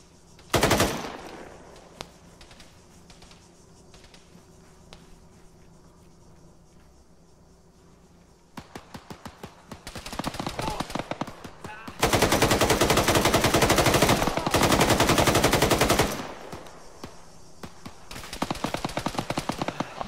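Bursts of DShK heavy machine gun fire in the video game ArmA 3, a brief volley early, then long, loud, rapid rattling strings of shots in the second half, alone with no talk.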